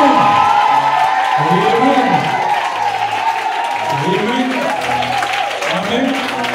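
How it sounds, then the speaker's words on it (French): A church congregation at a French-language service cheers and applauds loudly, with dense continuous clapping, whoops and shouting voices rising and falling together throughout. "Je vais acclamer plus que mon frère. Je vais acclamer plus que ma soeur. Je vais pousser les cris."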